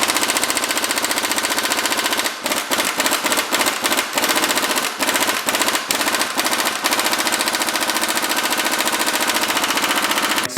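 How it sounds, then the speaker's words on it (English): An air impact wrench hammers at a stubborn crankshaft bolt on a K24Z engine, a loud, dense rattling buzz broken by short pauses into bursts in the middle, then running steadily again. "there is no amount of air that is getting this crankshaft bolt off"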